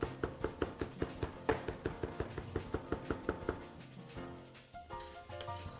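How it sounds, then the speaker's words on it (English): Knife chopping two garlic cloves on a board, a steady run of sharp, evenly spaced close knocks for about four seconds, then the chopping stops and faint kitchen sounds remain. "I am going to chop up 2 cloves of garlic."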